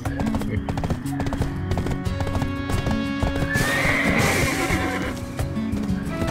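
A horse neighs loudly over a steady clatter of hooves in the game Black Desert Online, with game-like background sound running throughout.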